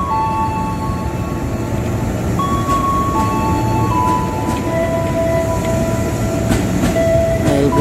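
Train on a new railway line between Bogor and Sukabumi, rumbling steadily and loud throughout with faint squealing tones, no talk.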